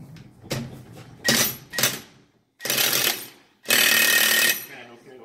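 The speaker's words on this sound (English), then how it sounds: "now run it down with the impact." Impact wrench running down bolts on a Nissan CVT transmission in a workshop, firing in several loud, close bursts of rapid hammering, short ones first and then two longer sustained runs separated by brief pauses.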